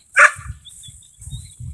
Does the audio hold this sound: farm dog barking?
yes